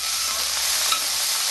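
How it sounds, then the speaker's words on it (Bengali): Poppy seeds sautéing in a pan with prawns and ridge gourd, a loud, close, steady sizzle with a single small pop near the middle. "পোস্তটা একটু কষে নেবো"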